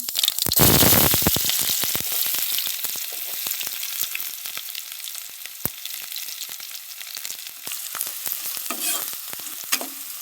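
Onions tossed into hot oil with cumin for tempering, giving a loud initial sizzle that settles into steady frying with repeated stirring clicks and scrapes in the pan, no voices.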